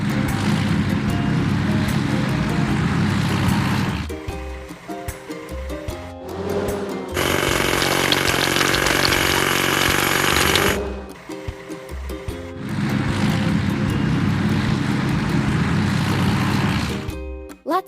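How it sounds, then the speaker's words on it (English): Hydraulic hammer in a truck-building video game cracking big rocks: loud mechanical rattling bursts with a sustained buzzing stretch in the middle, set between brief pauses and chimes of game music. "Hydraulic hammer."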